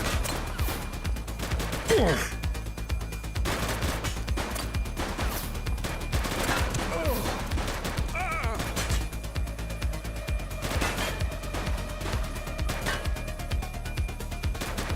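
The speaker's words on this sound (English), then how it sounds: "She's shooting!" Gunfire during a police shootout in the game The Precinct, rapid shots and short bursts crackling over a constant background hum, with a few sharper impacts and brief voices mixed in.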